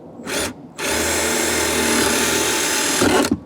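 Impact drill boring a hole during a stabilizer bar delete, a short burst followed by a sustained loud whirring run that ends abruptly, close by with no talking.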